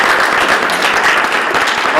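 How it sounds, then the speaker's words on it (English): Audience applause at a business seminar as a panel guest is introduced, dense, loud and continuous clapping from the crowd with no break. "Give her a round of applause, please."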